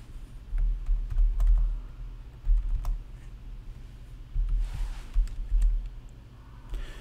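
Keystrokes on a computer keyboard tap out a command in quick irregular bursts, close and fairly quiet, with brief pauses between runs and no talking.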